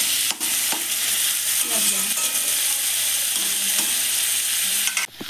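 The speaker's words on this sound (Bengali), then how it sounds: "পেঁয়াজটা লাল লাল করে ভাজা হয়ে গেছে" Onions fry in a wok, a loud continuous sizzle with scraping stirring strokes running throughout and a brief dip near the end.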